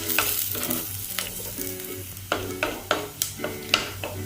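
Onions sautéing with fenugreek seeds in coconut oil in a pan for a tapioca and fish curry, a steady sizzle broken by loud spatula scrapes and stirring knocks toward the end, no talk.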